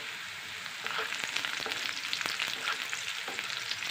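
Onions and curry leaves fry in hot oil, a close, continuous sizzle that swells slightly after the first second, with faint stirring scrapes mixed in.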